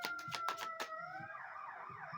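An emergency siren wails with a rising, sweeping tone after a few sharp rapid pulses, heard at moderate distance with no talking.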